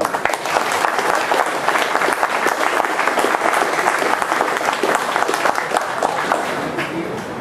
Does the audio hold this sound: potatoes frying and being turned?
no